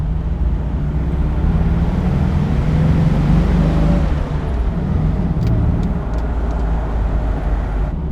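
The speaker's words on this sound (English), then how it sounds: "This car is beautiful to drive." A Jaguar XK150 Roadster drives along with a steady, fairly loud engine drone and road rumble, unbroken for the whole stretch, with no talk over it.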